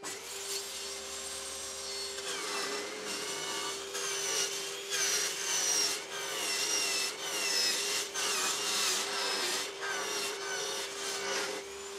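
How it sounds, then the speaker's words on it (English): PVC pipe being cut on a lathe, a steady rasping, grinding cut over a constant motor hum with a few louder surging stretches, close and continuous. "Well, that went pretty well for a first attempt. Bit of scarring where I exited the cut"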